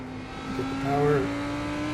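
A Lamborghini GT3 race car in a racing video game at the Red Bull Ring accelerates with a rising engine note under a low steady drone, swelling briefly and then holding level.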